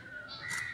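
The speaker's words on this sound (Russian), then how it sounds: "Вот такое изобилие птиц сегодня с утра наблюдаем в национальном парке" Bird calls in Keoladeo National Park, India, on a morning full of birds, with a crow-like caw rising near the end over a steady background of chirping and ambient chatter; short and moderately close.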